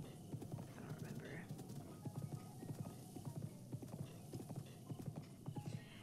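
A horse's hooves clip-clop steadily at a trot in Zelda: Breath of the Wild, a quiet, even rhythm in the foreground with faint ambient game sound behind.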